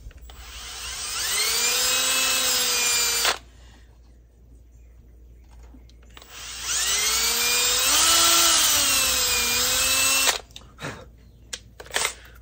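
A power drill bores into wood to make a ramrod for a .36 flintlock, two long loud whining bursts that rise in pitch as the motor spins up, separated by a quiet pause, then a few short taps.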